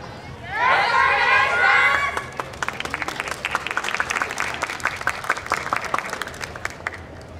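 A festival audience at the Ashikaga YOSAKOI festival bursts into cheers and shouts, then settles into a run of dense, near clapping that lasts several seconds, with chatter underneath.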